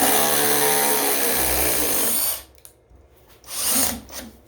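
A Masterforce hydraulic impact driver driving a screw gives a loud, steady whir for about two seconds, then cuts off, followed by a couple of shorter motor bursts and quieter gaps.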